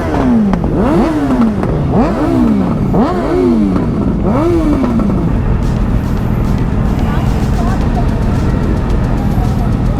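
Several motorcycles revving at a 2025 season-opening ride in Alytus, Lithuania, rising and falling engine sweeps repeating in quick succession, then a dense steady rumble of idling bikes with people talking nearby.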